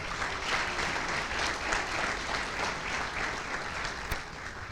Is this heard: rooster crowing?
no